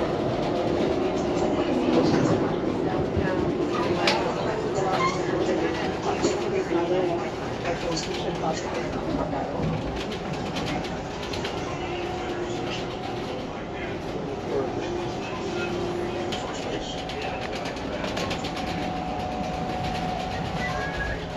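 Steady rumble and rattle of a moving Amtrak Sunset Limited passenger train heard from inside the Sightseer Lounge Car, with faint voices and rhythmic clacking underneath.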